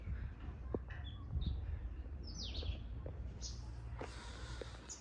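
Sparrows and other small birds chirp from a tree beside a water spot, scattered faint tweets over soft outdoor background noise, with no talking.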